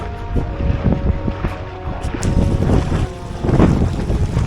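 Floodwater rushes through a village market street during a heavy downpour in Alidhra village, Mendarda: a loud, continuous churning roar with gusty wind buffeting close to the microphone.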